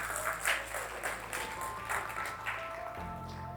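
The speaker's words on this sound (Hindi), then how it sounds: "थोड़ी तालियां तो बजाइए।" Audience applause at a TEDx talk at NIT Kurukshetra, steady clapping that runs through the whole stretch with a few louder swells, filling the hall with no speech over it.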